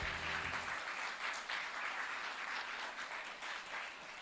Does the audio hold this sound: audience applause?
yes